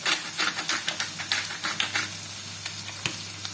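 Sardines sizzle and crackle in a frying pan, a close, busy spatter of pops over a steady hiss, easing slightly toward the end with one sharp crackle near the close.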